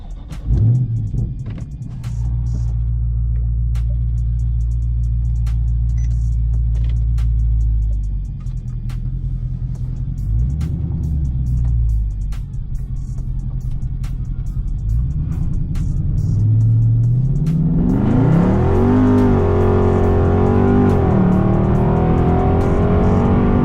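A car on R888 tyres is floored on the road, its engine roaring loud and close with a rising rev and a rush of tyre spin and noise toward the end.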